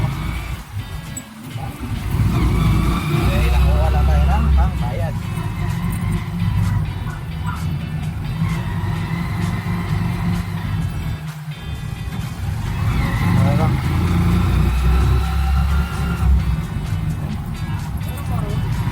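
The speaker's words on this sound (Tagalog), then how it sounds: "Yan mga kabiyahero, nakasakay tayo ng tricycle ngayon" Tricycle engine droning through a ride, a rough continuous motor rumble rising and falling with throttle, close and loud, while people talk over it.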